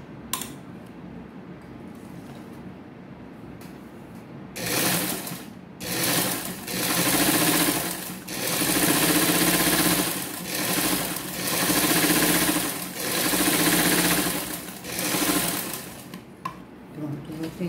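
Sewing machine runs in repeated bursts, stitching a seam on a fabric Easter bag strap, loud close-up whirring with short pauses between runs.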